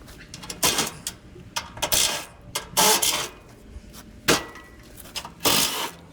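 Screws are removed from an air conditioner unit being scrapped, giving a series of sharp metallic clicks and clanks in irregular bursts, fairly close with no talk.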